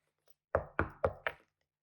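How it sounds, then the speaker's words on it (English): Four firm knocks on a cottage door in a steady, evenly spaced rhythm, close and clear with nothing else around them. "he crept to Grandma's cottage and knocked on the door"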